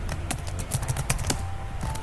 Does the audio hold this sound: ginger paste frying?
no